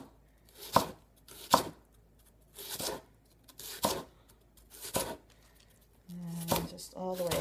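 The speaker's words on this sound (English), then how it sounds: "So we'll just take this and just do thin slices on the diagonal." A knife slices bok choy thinly on the diagonal against a cutting board, with crisp, evenly spaced chops about once a second and a voice speaking near the end.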